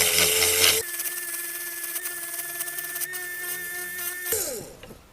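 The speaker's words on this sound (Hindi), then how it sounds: "मैं यहाँ पर अभी घिस दे रहा हूँ" A power grinder smooths metal parts for a homemade tiller machine, a steady high whine that starts abruptly, runs close and loud for several seconds, then spins down.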